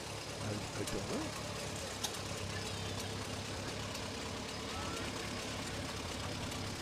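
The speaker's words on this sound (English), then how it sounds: "Listen to that engine. I love the sound." Low, steady rumble of an old tractor engine idling nearby at a 4th of July parade, a continuous throbbing drone with a few faint clicks and knocks.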